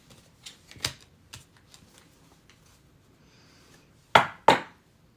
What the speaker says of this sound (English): we're almost done putting the cards out